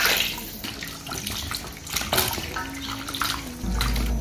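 Cold tap water runs steadily as food is rinsed in a sink, with soft splashing and small clatters over the continuous flow.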